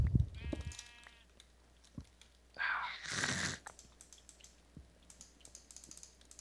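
Sheep bleating inside a Minecraft-style block-building game, a short wavering bleat rising clearly above quiet background game noise, with a few faint clicks and taps scattered around it.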